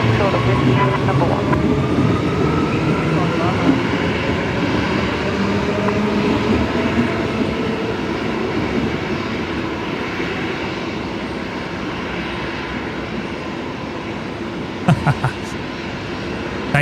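Jet airliner engines at Brisbane Airport roar in a steady, loud, broadband rumble that slowly fades, with a few brief clicks near the end; a voice talks faintly underneath.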